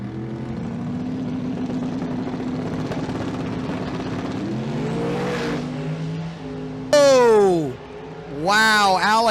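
A drag racing car launches and drives down the lane at a drag strip event with a loud, sustained engine roar, then sharp rising and falling revs near the end, with a voice partly over it.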